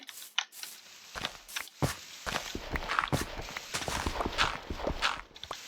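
Horse hooves clip-clopping in a mining video game, a run of quick uneven thuds and clops near and fairly loud, without talking.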